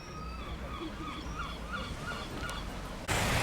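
Seagulls call repeatedly on a Cornish beach at Port Isaac, a series of short, bright cries over a low background rumble, ending in a sudden burst of wind noise.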